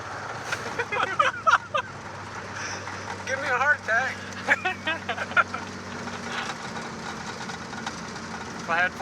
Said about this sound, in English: Boy, it sounds smooth when it's idling like that.